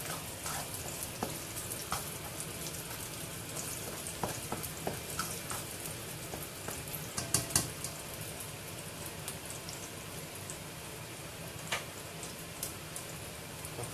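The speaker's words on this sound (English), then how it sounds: "Stir fry the garlic ginger till you can actually smell the fragrance coming out." Garlic and ginger stir-fry in hot oil in a pot, a steady close crackling sizzle with scattered sharp pops and occasional scraping taps from stirring, no voices.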